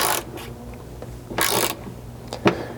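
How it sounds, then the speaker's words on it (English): Ratchet and socket turning a bolt to compress a riv nut in a Land Cruiser floor, a few quiet scattered clicks and rasps with short gaps between, close and soft, no voices. "I'm just going to start turning the bolt, kind of compressing the knurled edge on that riv nut using our ratchet and socket."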